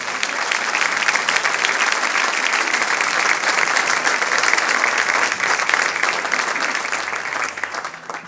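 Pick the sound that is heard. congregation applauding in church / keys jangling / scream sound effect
congregation applauding in church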